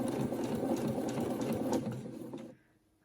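A sewing machine top-stitches a reversible washable fabric face mask, a close, steady mechanical whir that runs evenly for over two seconds, then cuts off to near silence.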